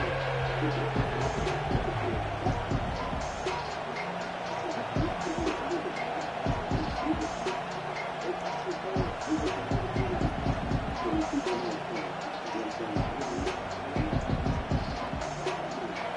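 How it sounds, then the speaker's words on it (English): A college football stadium crowd roars on third down at a Gators game, a steady dense wall of cheering and noise that holds loud and unbroken throughout. "This crowd unhinged, trying to make sure the Gators don't back down on 3rd down."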